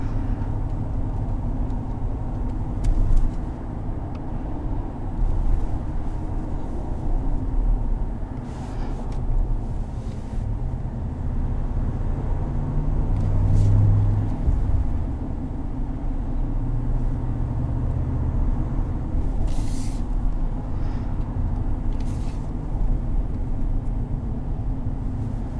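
Cabin drone of a 2020 Ram 1500 Rebel pickup truck driving in traffic, a steady low engine and road rumble with slight swells, continuous and fairly loud with no talk.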